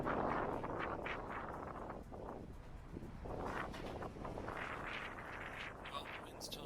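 Gusty wind buffets the microphone high in the Inyo Mountains near an old salt tram, a rough roaring rush that rises and falls throughout.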